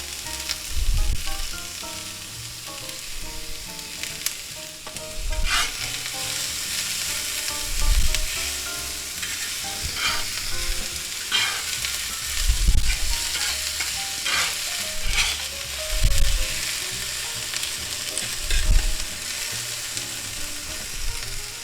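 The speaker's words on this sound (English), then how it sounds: "let's add our onions. And our slightly warm peppers." Onions and green peppers sizzle steadily in a hot pan on a grill, with repeated scraping and stirring thumps breaking up the constant frying hiss over about twenty seconds.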